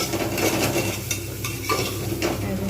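Ground cumin and turmeric stirred in a hot pan while making vegetarian ghugni, a steady close scraping with soft sizzling and occasional utensil taps throughout, no voices.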